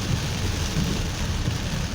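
Heavy rain falls steadily and loudly at close range, a continuous dense wash with no gaps and no talk over it.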